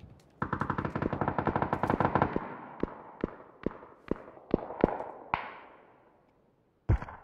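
Automatic gunfire in PUBG opens with a fast sustained burst, then breaks into spaced single shots with fading echoes, loud and close, and a final sharp shot after a brief pause.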